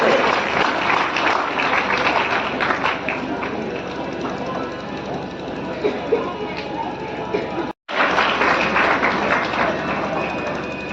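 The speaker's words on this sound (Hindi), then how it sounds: "इसलिए ताली नहीं रुकनी चाहिए बच्चों के लिए" An audience at a children's school program in a village hall claps in sustained, dense applause that runs nearly the whole time, with a brief break near the end, over a constant background hum and some voices.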